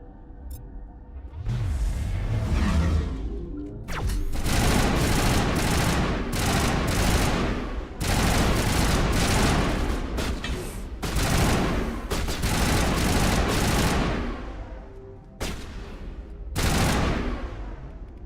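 Heavy gunfire in a Mass Effect 1 firefight: repeated loud bursts of automatic and rapid shots in long volleys, briefly pausing between salvos, with little talk.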